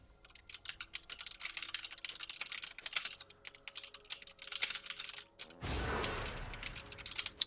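Rapid clicking keystrokes on a computer keyboard, irregular bursts of close taps, followed by a brief louder rushing noise before the typing resumes.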